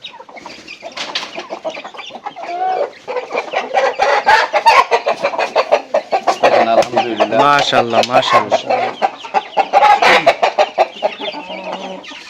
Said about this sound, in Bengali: এখানে দেখেন আরো মোরগ আছে, বড় বড় মোরগ আছে।